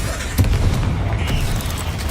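Bombarda explosion spell going off in the Hogwarts Legacy video game: a single deep boom early on that rolls into a sustained low rumble and settles into steady background noise.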